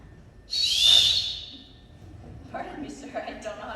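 A bright, sustained whistle blast from a handheld whistle rises near the start and holds for about a second before fading, followed by indistinct voices and stage movement in a theatre production.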